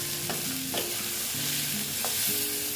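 A spoon stirs Malabar spinach (pui shak) with chili powder in a hot pan, producing a few distinct scraping strokes over a soft, continuous sizzle, with steady tones humming in the background.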